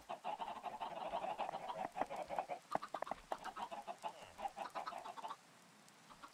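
Chickens cluck steadily in the Adopt Me video game, with a dense run of close, fairly loud clucks and squawks that thins out near the end.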